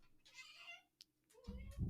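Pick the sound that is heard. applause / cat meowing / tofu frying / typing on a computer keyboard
cat meowing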